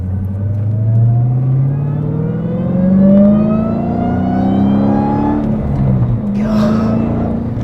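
A Dodge Challenger Hellcat with an aftermarket cone-filter intake accelerates through several gears, each rising engine scream followed by a shift. Loud and close throughout, with a faint whoosh near the end.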